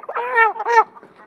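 Heavy hens of about three kilograms each, being counted out for sale, give two quick squawking clucks, loud and close, the second slightly higher, then fall silent.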